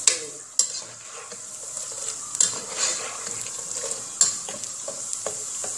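Onions and cashews fry in a pot for Lebanese kabsa, giving a soft, steady sizzle that is broken by several sharp clinks and scrapes of a utensil stirring against the metal.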